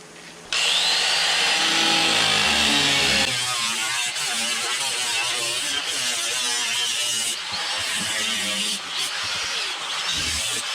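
Power tool cutting through rusted vehicle body metal, a loud close high whine with rasping grind, steady for several seconds before briefly dipping and resuming.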